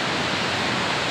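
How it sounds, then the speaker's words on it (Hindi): Rushing glacier-fed Saraswati river near Mana village by Bhim Pul at Badrinath, a loud, steady broadband roar of fast whitewater with no break and no voices. "सरस्वती नदी, ग्लेशियर के नीचे से ही आ रही है और यहाँ दिखाई देती है"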